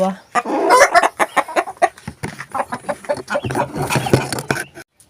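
Chickens on a poultry farm cluck in a busy, close run of short, loud calls, with a voice talking between them.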